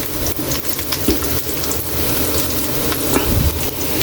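Tomato paste going into a pan of onions frying for liver stew, a steady loud sizzle with faint scrapes and clinks throughout, no talking.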